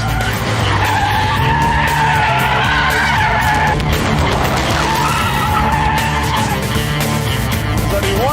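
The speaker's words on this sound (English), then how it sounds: "Let's turn in, whoa, miles of oversteer, you can get it up to the limit, just hold it there." Tyres on a Vauxhall VX220 (Opel Speedster) squeal and skid continuously as the car holds a long oversteer slide on a racetrack, with the engine droning loudly underneath throughout.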